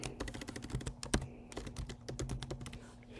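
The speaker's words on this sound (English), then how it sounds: "I'm going to type that." Close, quiet typing on a computer keyboard, a rapid stream of light key clicks with a few heavier taps, continuous for a few seconds with no voices.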